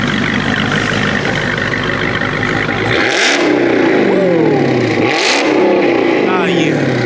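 A Dodge Hellcat's engine revs hard twice through a loud, raspy aftermarket exhaust, each rev rising then falling back to a rumbling idle, close by.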